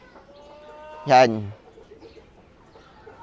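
A single short burst of clucking from a large giant-breed chicken, raised for meat, rises briefly out of quiet farmyard background, with a brief spoken word nearby.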